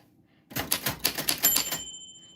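A 1949 Royal Arrow typewriter clatters through a quick run of sharp keystrokes, close and crisp, and then gives a bright ring that hangs briefly as the typing stops.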